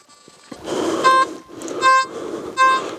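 Steady electronic tones with harmonic overtones from a Trembita metal detector beep in three separate bursts over a continuous buzzy background hum, fairly loud and close.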